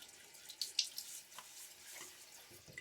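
Water running from a bathroom tap while a face is wetted before a shave, soft splashing and trickling with a few sharper splashes, fairly faint and close, with no talking.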